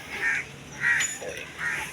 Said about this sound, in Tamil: காக்கா வந்து நாவல் பழம் சாப்பிட வந்திருக்கு